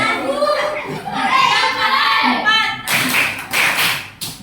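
Children in a fifth-grade primary school classroom chant a count together, then break into loud group clapping in several close bursts.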